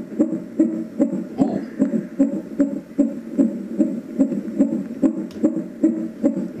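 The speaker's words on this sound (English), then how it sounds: "This sounds like heart rates and stuff." Steady, muffled heartbeat from a Roffie N500 white noise machine pulsing at a regular rhythm, low and thumping, continuous throughout with a faint background hiss.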